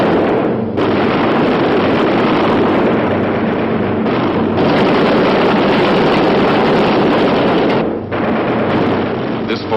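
Engines roar loudly and without letup on a B-17 Flying Fortress bomber in wartime flight, with short dips in the noise at intervals and voices faintly mixed in.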